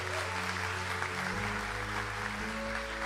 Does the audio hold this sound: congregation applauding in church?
yes